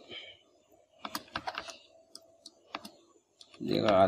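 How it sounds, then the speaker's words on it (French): Typing text on a computer keyboard, a quick run of close, crisp key clicks in uneven bursts, ending with a person starting to talk. "Je vais écrire dégradé"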